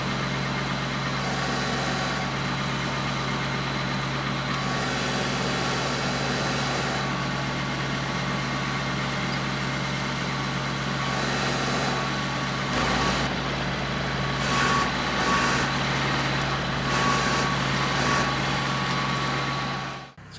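A tractor runs with a flail mower attached, its engine a steady, loud mid-pitched drone with a constant hum through the whole stretch, cutting strips of grass with no speech over it.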